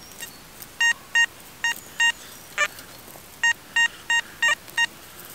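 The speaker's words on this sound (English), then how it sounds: "I've got an absolutely cracking little signal down here." A metal detector sounds over a buried target in a field hunted for medieval coins, giving about ten short, clean electronic beeps in an uneven series against a quiet background.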